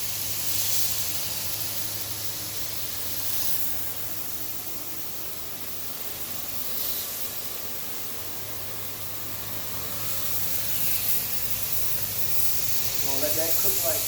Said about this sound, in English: you kind of want to sear this fish